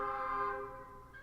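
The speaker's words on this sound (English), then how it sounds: "I don't know if you guys just heard that train horn" Loud train horn blares in a sustained tonal blast that fades out, heard alone with no talking.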